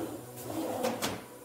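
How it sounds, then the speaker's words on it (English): A soft-close kitchen drawer in a home glides shut with a muted slide and two gentle thumps as it eases closed, heard close up in a quiet room. "The drawers are soft close."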